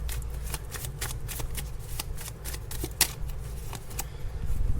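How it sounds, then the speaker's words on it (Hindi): A deck of handmade oracle cards shuffled during a love tarot reading, giving quick rhythmic riffles and soft slaps in rapid succession, close and steady, with no talking. "ये मेरे हैंडमेड ओरेकल कार्ड्स है"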